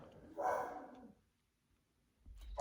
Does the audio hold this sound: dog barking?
yes